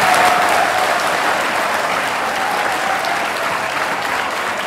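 A classroom audience claps for a teacher, steady dense applause from many hands throughout, loud and close, with no clear talk over it.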